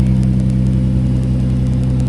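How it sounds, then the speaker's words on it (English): A car with a new custom DIY valved exhaust, an Acura TLX, revs close by with a loud, steady deep drone and rumble that holds for about two seconds without any talking. "that's a new exhaust setup."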